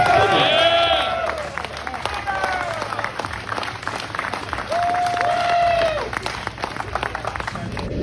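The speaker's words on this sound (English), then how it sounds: "Let's give another round of applause for that." Applause from a staff crowd at a safe driving awards huddle, many hands clapping steadily throughout with cheers and whoops rising over it, and talk mixed in.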